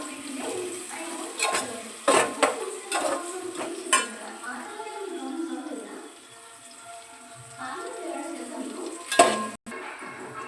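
Onions fry in a pan with a steady, faint sizzle beneath sharp clinks and scrapes of stirring utensils against the pan, heard up close.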